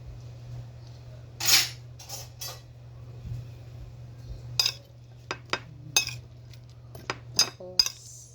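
Spoon clinking and scraping in a dish, several sharp metallic taps and rattles scattered irregularly over a low steady hum, close and moderately loud.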